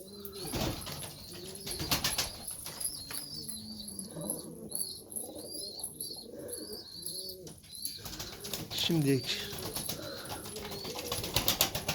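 Tumbler pigeons in their coop coo repeatedly in low throaty rolls, with bursts of wing flapping and a few brief chirps close by, while someone briefly speaks.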